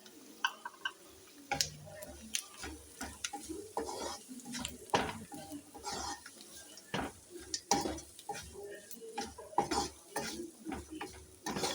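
Onions and carrots sautéing in a pan for Chinese kebabs, with repeated spatula scrapes and clinks over a soft sizzle, close and steady for the whole stretch.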